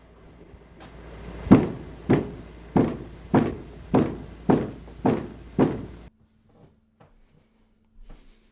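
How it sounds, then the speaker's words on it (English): A head thumping against a wall: eight dull, evenly spaced thuds at a steady rhythm, close and fairly loud, followed by near silence with a few faint knocks. "I need to go bang my head against a wall to get the stupidity out of my head."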